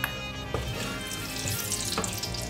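Oil goes into a karahi pan to start chicken karahi, giving a close, steady hiss and sizzle with a splashy, watery texture for a couple of seconds and no voices over it.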